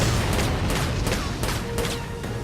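Rapid bursts of gunfire from a battle in the tactical game Valkyria Chronicles 4, several quick rattling shots in a row over a continuous noisy background, close and fairly loud.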